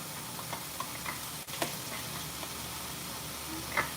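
Onions and leek frying in a pan for a quick vegetarian dish, a steady close sizzle with occasional light clicks and scrapes from stirring, no voices.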